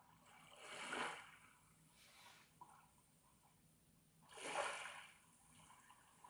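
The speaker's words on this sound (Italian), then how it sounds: "Il secondo è il rumore delle acque del mare." Sea-wave sounds from the built-in relaxation mode of a Tribit Home Bluetooth speaker, with two soft swells of surf washing in and receding over a low, quiet background.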